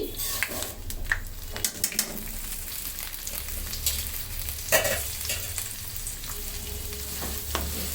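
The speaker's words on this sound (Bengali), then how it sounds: "চালটাকে ভালো মতন ভেজে নিতে হবে" Polao rice sizzles and crackles steadily as it is fried in a pan, with repeated scraping and clinking from stirring.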